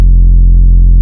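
A single deep, sustained synth bass note from the free Knee Bass plugin holds steady and loud for about a second, then cuts off.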